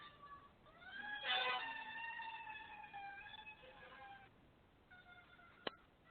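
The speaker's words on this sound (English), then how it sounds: "siren going by there." Siren of an emergency vehicle passing by outside, faint and distant, with a wavering rising tone that swells and fades over several seconds, followed by a sharp click.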